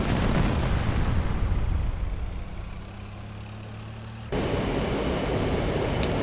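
A-10C II aircraft cannon strafing a ground target in DCS World: a loud roaring burst of rapid fire that fades into engine drone, then another abrupt burst of cannon fire near the end.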